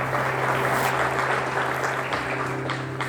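A church congregation applauds during an Easter sermon, a loud, steady blanket of many hands clapping for about three seconds over a constant low hum from the room's sound system.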